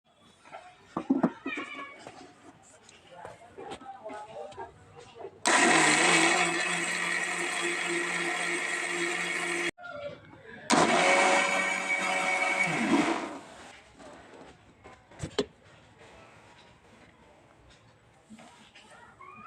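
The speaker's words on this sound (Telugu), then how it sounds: "మిక్సీ పెడతాను" A mixer grinder grinds soaked green gram and rice in two loud, roaring bursts of a few seconds each with a short pause between, while scattered voices and kitchen noises are heard before and after.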